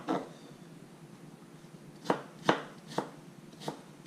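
A knife chops onions on a cutting board with four or five sharp, distinct knocks spaced about half a second apart, close and crisp against a quiet room.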